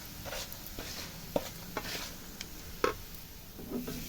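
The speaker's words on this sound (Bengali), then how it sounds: "এই ভাজাটা কিন্তু হাই ফ্লেমে হবে, বারবার নেড়ে দিতে হবে।" Small pieces of chosi pitha rice dough fry in a pan over high flame, heard as a faint, low sizzle broken by a handful of quiet scraping and clicking stirs.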